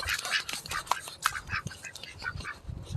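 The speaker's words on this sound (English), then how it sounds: "The ducks are down here in the muddy mud pit." Ducks quack from down in a muddy pit at a beekeeping yard, a scatter of faint, fairly distant calls over outdoor background noise, with no talking over them.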